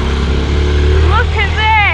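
A Honda C90 motorcycle engine strains in second gear on an off-road trail, rising in pitch under load, close and loud, with a voice speaking over it.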